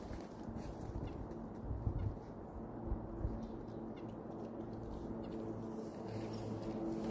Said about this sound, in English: And there's a bird here